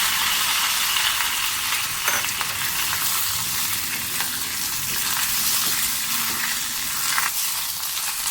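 Leaves sizzle steadily in hot ghee in a pan on the stove, a loud continuous frying hiss with faint stirring scrapes and no voices throughout.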